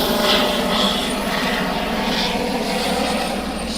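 A light aircraft makes a low flyby over the start of the RORC Caribbean 600 2024 yacht race, a steady loud engine drone that holds throughout and eases slightly toward the end.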